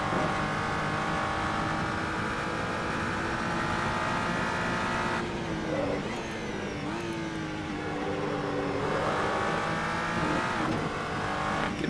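GT3 race car in the Assetto Corsa racing game at the Nürburgring GP circuit, engine roaring continuously as tires slide and squeal around corners, with rising and falling revs through gear changes, loud and alone.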